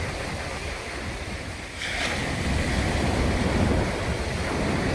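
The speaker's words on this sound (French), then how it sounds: "elle est connue par ses grandes vagues" Steady roar of surf washing onto a beach in Martinique known for its big waves, broad and continuous, swelling slightly partway through, with some wind buffeting the microphone.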